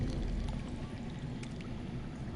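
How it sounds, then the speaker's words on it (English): Running water trickles and gurgles from somewhere underground in a fantasy video game, a steady muffled flow heard alone at moderate loudness. "That's water. I hear water. From underground."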